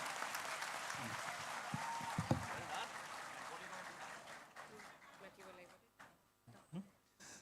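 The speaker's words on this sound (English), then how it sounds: "We need a big round of applause for her" An audience applauds a student who scored 100 out of 100 at a felicitation of meritorious students, a broad, sustained round of clapping that slowly fades while a voice speaks over it.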